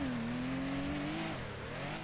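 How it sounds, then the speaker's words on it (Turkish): An engine drones loud and steady in a driving video game while tires squeal in a long rising then falling skid, with the car holding at speed throughout. "Araba durmuyor."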